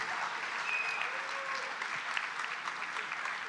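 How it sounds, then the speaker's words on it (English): An audience at an autism conference applauds steadily, a dense, even wash of clapping that lasts throughout at moderate loudness, with no speech over it. "Ladies and gentlemen, one more loud applause."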